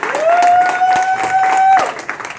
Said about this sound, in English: I want you guys to give Professor Carl Jones a round of applause